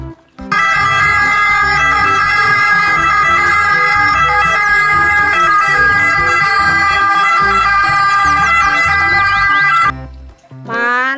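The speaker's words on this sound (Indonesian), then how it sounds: "Mobil ambulan." An ambulance siren wails loudly and continuously at close range for about nine seconds, steady and unbroken, then cuts off abruptly, leaving a brief tail of sound.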